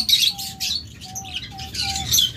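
Pet rainbow lovebirds in a cage give repeated high chirps and short whistled tweets at close range, alone with faint background noise.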